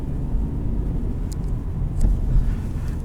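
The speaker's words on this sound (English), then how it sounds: "This is my first time driving a normal Honda manual." A 2018 Honda Civic LX with a manual gearbox drives along with a low, steady engine and road rumble from inside the cabin and a few small clicks. Nobody speaks.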